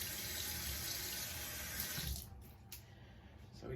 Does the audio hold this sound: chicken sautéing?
no